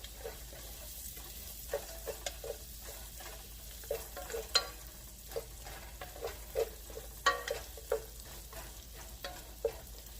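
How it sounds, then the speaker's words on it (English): Onions caramelizing in a pan for broccoli and cheddar soup, a soft steady sizzle with scattered light stirring scrapes and clicks throughout, close and fairly quiet with no talk. "I'm going to let the onions caramelize and get tender."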